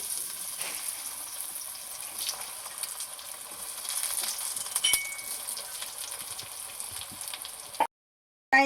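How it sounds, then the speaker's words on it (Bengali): Potato and pea fritters crackle in hot oil with a soft, continuous sizzle, up close, broken by occasional faint clinks before cutting out briefly near the end. "এখন আমি বড়াগুলো আবার একটু তেলে হালকা করে ভেজে নেব।"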